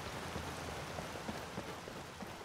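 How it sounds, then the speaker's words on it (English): Rain in Skyrim around the village of Riverwood, a steady soft hiss of falling drops with faint patters throughout, quiet and continuous with no voices. "Which is then ruined by the rain."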